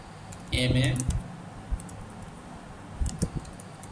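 Keys clatter on a computer keyboard in short bursts, a quick run of typing followed by a few isolated taps, close and fairly quiet with a faint hum of room noise.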